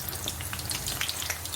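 Snacks deep frying in hot oil, a close, steady crackling sizzle with faint bubbling pops that carries on without pause or voices.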